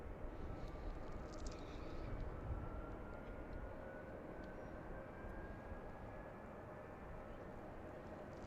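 A plane landing at Washington Reagan National Airport, its broad steady engine roar holding at an even level throughout with a faint rising whine, with a voice talking briefly over it.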